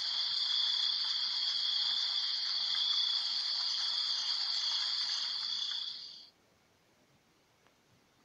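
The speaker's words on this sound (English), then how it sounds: "You can even have crickets." Crickets chirping as a phone app sound effect, a continuous dense high trill played loud for about six seconds, then cutting off abruptly into near silence.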